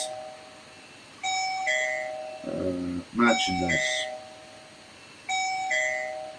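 An electronic doorbell chimes twice a few seconds apart, loud and close, with a person speaking briefly between the rings.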